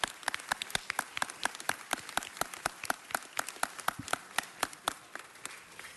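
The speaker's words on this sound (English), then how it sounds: "We got to give Rabbi a round of applause." A small group at a city council meeting applauds, with sparse, distinct hand claps in an uneven patter that thins slightly toward the end.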